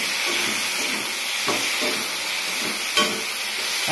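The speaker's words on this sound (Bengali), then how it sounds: "উপর দিয়ে তেল দিয়ে দিচ্ছি" Oil drizzled over okra frying in a pan gives a steady, close hiss and sizzle, with a few soft clinks and one sharper tap near the end.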